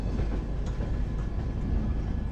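The Tirumala Express rolls past at a station, a dense, close, continuous rumble of coaches and wheels filling the whole moment with no voices.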